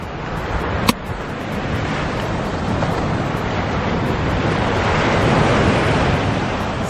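Ocean surf rolling onto a beach, a broad continuous roar swelling gradually, with heavy wind buffeting and one sharp knock near the start.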